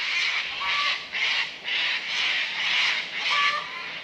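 Cockatoos squawk harshly and loudly around a tropical Far North Queensland house. The rasping calls come in repeated overlapping bursts with no pauses between them.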